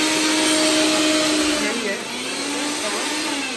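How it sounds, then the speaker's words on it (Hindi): A mixer grinder runs in a home kitchen, a loud, steady high whirring drone that drops slightly in pitch midway and continues. "तुम मिक्सी चला रही थी"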